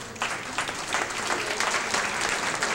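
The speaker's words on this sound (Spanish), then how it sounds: "let us give her a round of applause." An audience gives a round of applause for a woman at a bilingual training session, with steady, dense clapping throughout that neither builds nor fades.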